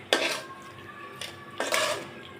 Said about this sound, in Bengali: চুলা পাওয়ার দিয়ে এভাবে আপনারা নাড়াচাড়া করবেন